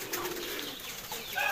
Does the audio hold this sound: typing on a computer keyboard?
no